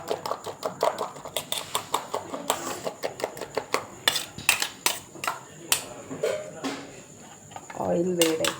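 Eggs beaten briskly in a bowl for a puffy omelette, a fork or whisk clinking against the sides in quick, steady, close strokes for several seconds.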